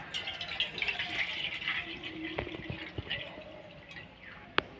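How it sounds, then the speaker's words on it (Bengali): Water poured slowly off settled homemade potato cornflour into a large bowl, a steady close trickle and splash with a few drips, no talk. "এখন আস্তে করে এই বড় বাটিতে আমি উপরের যে জলটা আছে এই জলটা আমি ঢেলে নেব"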